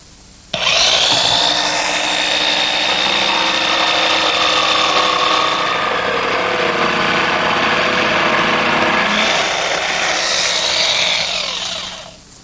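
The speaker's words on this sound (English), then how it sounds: "What I want to do is cut that arch in a blank piece" A jigsaw cuts an arch through a blank piece of MDO plywood, starting abruptly into a loud, continuous buzzing rasp that holds steady for about eleven seconds before winding down, close by with no talk.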